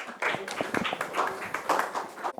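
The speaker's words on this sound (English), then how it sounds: "Let's welcome him with a round of applause." Audience applause at a pharma workshop as a speaker is welcomed, a scattered patter of claps close by, rising and falling for a couple of seconds before stopping abruptly.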